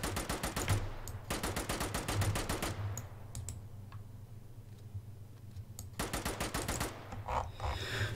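Bren light machine gun firing in the IFA3 mod for Arma, rapid sharp bursts in several strings with short pauses between them, loud and close, with a low engine hum running beneath throughout.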